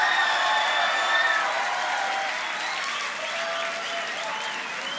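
At the Grand Beatbox Battle 2019, a large crowd cheers and applauds for the beatboxer Codfish, with a whistle riding over the din. The noise is loud at first and eases slightly but stays dense throughout.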